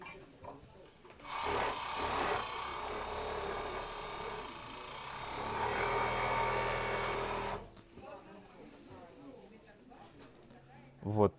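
A Siruba industrial overlock machine sews stretch poplin fabric in a loud, close, continuous run lasting about six seconds, then stops. A person talks quietly before and after.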